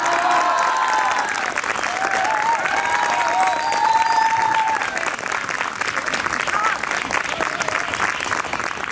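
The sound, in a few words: audience applause with ovation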